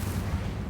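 An Incendio fire spell cast in the Hogwarts Legacy video game bursts out as one short, dull, booming blast lasting well under a second.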